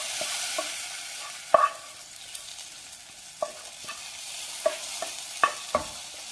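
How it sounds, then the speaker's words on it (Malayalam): A spoon stirs roasted coconut into a bottle gourd and red cowpea erissery, giving soft intermittent scrapes and a few sharp knocks against the pot over a faint low sizzle, close and unhurried. "ഇനി വറുത്ത തേങ്ങ ഇതിലേക്ക് ചേർക്കാം."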